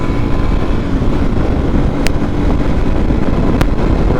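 A Yamaha TW200 dual-sport motorcycle running close to full throttle at highway speed, a steady, loud engine drone mixed with heavy wind rush over the microphone, with no break in the noise.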